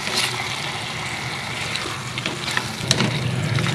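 Beef mini kababs simmer in gravy after a splash of water goes in, giving a steady close bubbling sizzle with soft liquid movement throughout and a few brief clinks.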